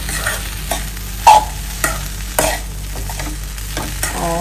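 Chopped coriander being mixed into poha in a pan, a few distinct scraping stir strokes of a spoon against the pan over a soft sizzle, close and clear with no talk.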